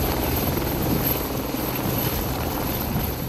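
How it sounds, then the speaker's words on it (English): A military transport helicopter flies overhead, its rotor and engine a loud, steady, unbroken drone with no voices. "this chopper can carry up to 12 soldiers, along with its two-member crew."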